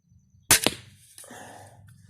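An Alligator 80lb crossbow fires bolts that strike hard: two sharp, loud cracks in quick succession, followed by a softer rattling rumble as the impact settles.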